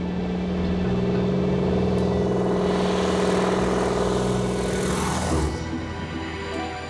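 An antique radial-engine plane takes off in the Chitina valley in southeast Alaska, its engine droning loud and steady, then sweeping past with a falling pitch shift before it recedes.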